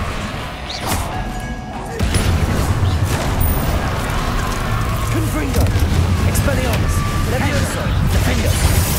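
Confringo fire spell explosions in Hogwarts Legacy, sounding as loud crashing thuds and blasts amid busy combat noise, with a voice talking over the fighting.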